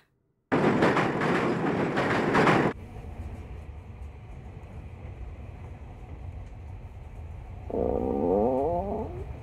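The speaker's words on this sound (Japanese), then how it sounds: "電車の中は騒音でいっぱいだ。" A steady low rumble fills the inside of a moving train, following a loud burst of noise at the start, with a brief warbling tone near the end.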